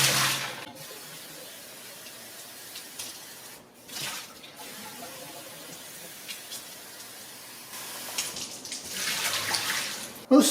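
Water poured and swirled while rinsing stored emergency food, a soft continuous sloshing and trickling with a louder pouring swell near the end.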